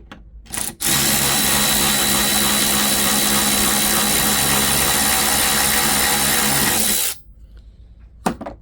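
Milwaukee M12 3/8-inch cordless ratchet running in one continuous loud whir of about six seconds, starting and stopping abruptly, with quiet handling noises before and after.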